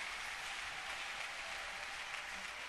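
A church congregation in Kinshasa applauds together in a dense, steady roar of clapping that holds at an even level throughout, with no voices rising above it.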